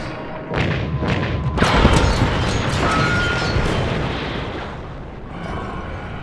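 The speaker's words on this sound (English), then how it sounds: "Use the Earth gun to engage from a distance." Earth gun blasts fired at a kaiju in a tokusatsu show, a series of heavy booming shots and explosions that swell into a sustained rumbling roar, loud and close, without talk.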